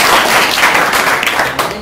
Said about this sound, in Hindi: इनके लिए ताली बजा दीजिए एक बार